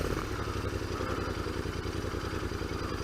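A 2019 Royal Enfield Interceptor motorcycle engine idles with a steady, low, lumpy thrum and faint mechanical clatter, heard close up and continuous throughout.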